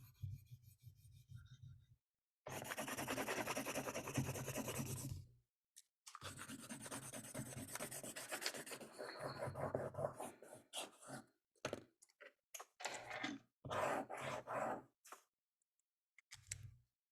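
Drawing on paper, a continuous scratchy rubbing of a drawing tool moving across the sheet in long strokes and shorter bursts, close and fairly loud, with brief pauses between passages.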